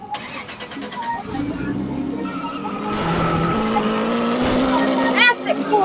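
A Lamborghini is driven in a video game, its engine revving and droning while the tires squeal and skid in bursts, loud and near, with a voice talking over it.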